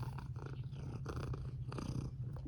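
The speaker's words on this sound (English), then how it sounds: "we still have that stray cat" A stray cat on a farm purring close up, a steady rhythmic rumble with pulsing breaths, continuous and fairly quiet, no talking.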